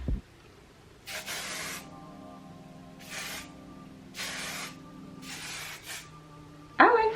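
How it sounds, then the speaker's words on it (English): Four separate hissing bursts of aerosol hairspray sprayed onto hair, each lasting about a second, set against a quiet background hum with a brief sharp noise at the end. "I'm actually gonna spray a little bit more of this in my hair."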